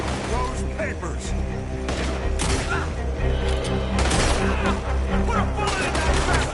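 Shootout gunfire in Red Dead Redemption 2 during a raid on Cornwall's business, with scattered shots and heavier booms cracking through a constant noisy battle while voices shout over it.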